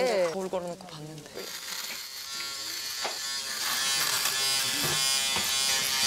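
An electric shaver buzzes steadily and loudly through most of the clip during a Korean reality-show shaving scene, its harmonic hum rising after a brief opening of speech and running on without pause.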